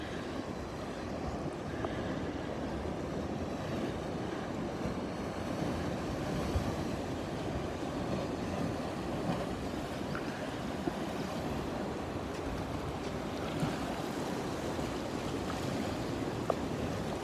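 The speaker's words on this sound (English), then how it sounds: "I've just paused talking so you can listen to the sound of the water" Ocean water and waves washing along coastal cliffs by Sydney ocean pools in the early morning, a faint, steady wash of surf and moving water with soft irregular splashes, no talking.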